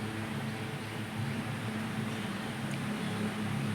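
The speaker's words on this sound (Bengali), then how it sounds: "অবশ্য ফ্যানের আওয়াজ হচ্ছে।" A ceiling fan runs steadily in a home kitchen where eggs are being fried, giving a constant low whirring hum with broadband air noise that stays even and unbroken throughout.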